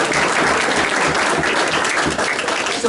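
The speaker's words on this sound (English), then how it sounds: "Yes, another round of applause." A Rotary club meeting audience gives a round of applause, a loud, dense, continuous patter of many hands clapping close by, steady from start to finish with no talk over it.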